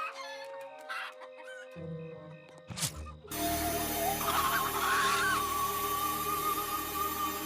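Animated cartoon chickens cluck and chatter in a busy burst after a short stretch of music and sound effects, close and lively, with a rising crow-like call running through the clucking.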